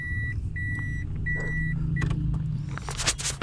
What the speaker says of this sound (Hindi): वो गाड़ी निकल रही है, उसके साथ ही हम गाड़ी पार्क कर देंगे